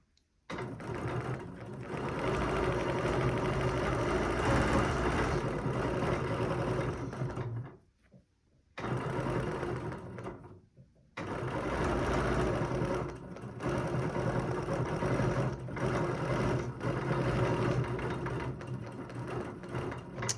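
A sewing machine stitches a quilt in long steady bursts of rapid needle chatter, close and even, broken by two short pauses before running on again.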